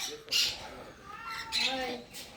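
A large parrot at a farm aviary gives harsh squawks in two loud bursts, with fainter bird calls and pigeons around it.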